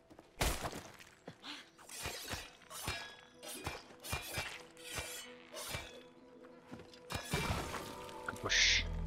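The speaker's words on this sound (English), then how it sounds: "I wanted to break the glass." Glass shattering in It Takes Two, sharp breaking crashes and clinks spaced irregularly over several seconds, each with a bright tinkling tail, separated by quieter gaps.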